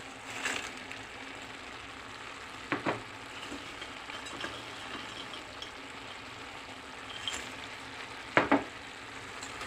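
Frozen pepper pieces fry in a pan of stewed tomatoes for shakshuka, giving a quiet, continuous sizzle with a few brief louder scrapes and clinks from stirring; no voices.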